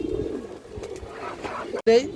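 A pigeon coos briefly and nearby, a soft low murmur that ends in a clearer coo, with someone talking around it.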